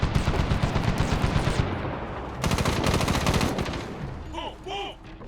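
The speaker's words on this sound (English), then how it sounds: "Move when we lay down some fire." Rapid machine gun bursts rattle loudly in the Medal of Honor video game, two long dense volleys separated by a short gap, then a few faint chirping effects fade in at the end.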